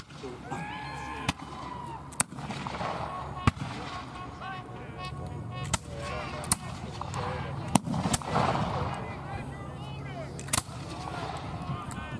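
Musket gunfire at the 2024 Siege of Old Fort Erie night assault reenactment: sharp, scattered shots crack out every second or two over a murmuring crowd and distant battlefield noise.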